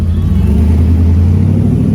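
A classic car, named the top car of the night at the Historic Main Street Car Show, drives off close by with a loud, deep throbbing engine rumble that holds steady.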